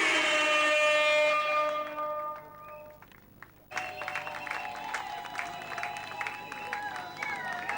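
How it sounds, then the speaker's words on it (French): A crowd at a political gathering applauds loudly, and the clapping thins out and dies away within a few seconds. A high whistling tone sounds through it, then after a pause come varied tonal sounds and background noise. "Applaudissez pour vous-même."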